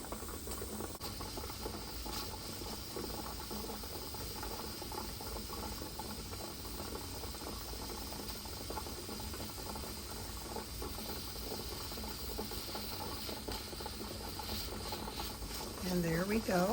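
Steam escaping from a pressure canner while canning chipotle beef, a steady quiet hiss with faint mechanical rattling underneath and a brief rise in level at the very end.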